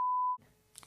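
A single steady censor bleep, a pure tone lasting about a third of a second, blots out a name in a podcast conversation, then drops to a faint room hush.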